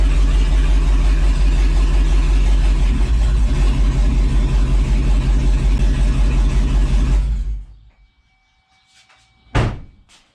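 A white Chevrolet 2500HD pickup truck's engine runs loud and steady with a deep low rumble, then cuts off, leaving near silence broken by a faint tone and one sharp bang near the end.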